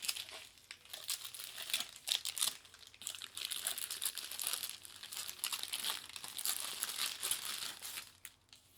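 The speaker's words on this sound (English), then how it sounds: "this is a cup of noodles. Here, let me wrap it. Let me unwrap it actually." Someone unwraps the plastic film from a Cup Noodle cup, making close, continuous crinkling and tearing with sharp bursts of crackle throughout, and no talking.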